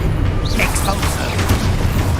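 The Expulso explosion spell in Hogwarts Legacy lets off a loud, deep booming blast with rumbling bursts throughout, filling the short moment up close.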